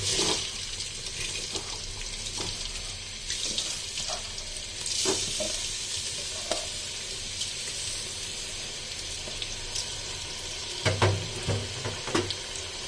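Chopped onions fry in a pan as washed rice is tipped in and stirred, giving a soft, constant sizzle with scattered scraping and clinking from the spoon, fairly quiet and close, with no talking.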